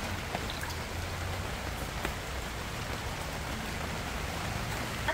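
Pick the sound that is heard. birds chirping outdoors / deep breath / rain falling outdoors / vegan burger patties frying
rain falling outdoors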